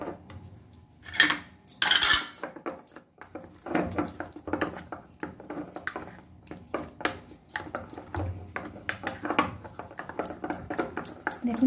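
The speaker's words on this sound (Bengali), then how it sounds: "এবার এগুলো সব কিছু দিয়ে আমি ভালো করে দইটা ফেটিয়ে নেব।" Spiced yogurt whisked in a bowl with chili powder and garam masala, a busy run of quick clinks and scraping taps of utensil against the bowl, close and uneven, with no voices.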